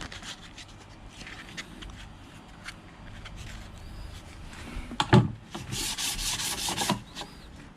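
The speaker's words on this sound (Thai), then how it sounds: "ก็เอาเปิดด้วยเบอร์สามรอยี่สิบแล้วกันเพราะมันเรียบครับ อันนี้คงขัดแป๊บเดียวก็คงจะเสร็จครับ" Rubbing friction of 320-grit sandpaper on a carbon-wrapped part for a Mio 125 GT motorcycle, a soft, steady scratchy scrub that builds into a louder, brighter stretch of strokes near the end, with no talking.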